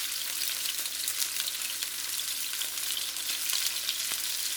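Lobster stir-frying in oil in a pan for a stir fry with mixed vegetables, giving a steady, dense, close crackling sizzle with a few faint stirring ticks and no voices.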